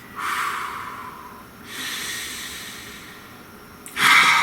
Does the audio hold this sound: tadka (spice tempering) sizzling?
no